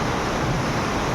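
Water rushes at Thirparappu waterfall in a steady, loud, dense roar that holds unbroken throughout, with no voices over it.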